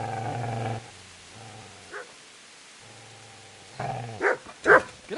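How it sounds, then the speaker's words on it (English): A dog growls and barks in the video game Kingdom Come: Deliverance, with a low rumbling growl early on, a brief pause, then sharp, close barks toward the end. "Get away, you mutt!"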